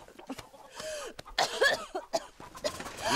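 A person coughing in a quiet indoor setting, several short, rough coughs and throat-clearing bursts in quick succession, close and fairly soft, with breathy sounds between them.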